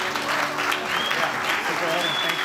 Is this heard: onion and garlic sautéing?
no